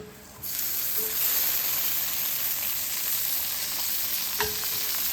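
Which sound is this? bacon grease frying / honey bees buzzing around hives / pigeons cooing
bacon grease frying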